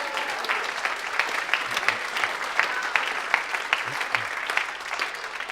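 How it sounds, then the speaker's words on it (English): An audience claps warmly for a group of children called up at a ceremony, steady applause filling the room for several seconds with faint voices underneath. "Why don't you give them all another round of applause?"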